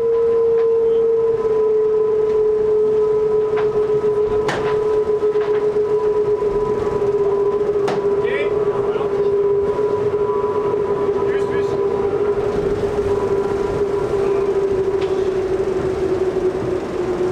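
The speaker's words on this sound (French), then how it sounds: "le bruit que vous entendez, c'est le bruit du vent qui se faufile dans" A steady, high whistling tone of wind over a racing sailboat sustains throughout over a rushing background, with occasional sharp knocks and creaks; a voice talks intermittently.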